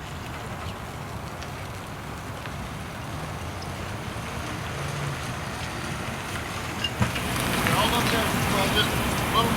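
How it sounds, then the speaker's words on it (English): A motorboat crosses a river toward Remley Point near Mount Pleasant, South Carolina, as a steady engine drone under wind and water noise that swells slightly louder near the end. "They motored across the river to Remley Point and Mount Pleasant to recover the boats"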